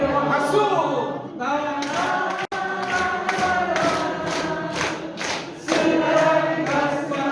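A group at a workshop claps in a steady beat along with singing, the sharp, close claps repeating evenly over the voices.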